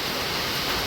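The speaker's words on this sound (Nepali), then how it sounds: "आज चाहिँ हावाहुरी पनि चलेको छ" Heavy rain driven by strong, gusting wind makes a dense, steady hiss that roars evenly and close by, with no voices.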